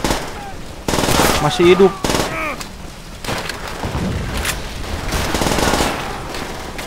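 Gunfire from enemies in Call of Duty World at War, a veteran-difficulty campaign attack on a town: loud bursts of automatic fire and heavy shots crack close by, with a player talking between the bursts.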